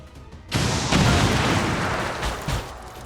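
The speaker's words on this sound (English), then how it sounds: "it once again involves Twitchy beginning things with an explosive, this time her rocket launcher" An in-game rocket launcher blast from the XCOM 2 War of the Chosen strategy game: a loud, close explosive boom with a sharp onset and a long rumbling tail, followed by a second smaller burst near the end.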